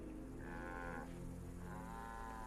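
Cattle in the Assassin's Creed Origins game moo twice, two drawn-out lowing calls close by against a quiet background.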